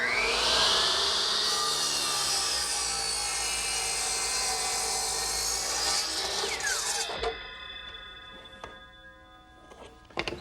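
A laser-guided power saw cuts through wood for a trundle bed, a loud, steady whining buzz lasting several seconds before the blade spins down and a few light clicks and knocks follow.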